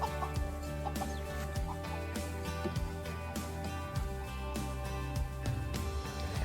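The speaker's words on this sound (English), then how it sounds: "Chicken is sitting on some eggs." Farm hens cluck softly and intermittently nearby, low murmuring clucks over a steady background hum, with one hen sitting on a clutch of eggs.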